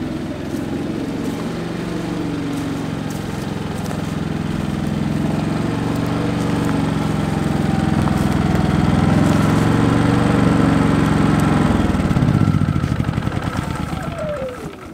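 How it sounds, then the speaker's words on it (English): A small inverter generator running steadily nearby, a low continuous hum and drone that swells slightly louder midway. "So the generator is an inverter generator, so it is super quiet"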